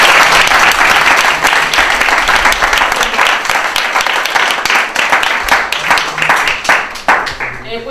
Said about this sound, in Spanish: un aplauso grande a los rabinos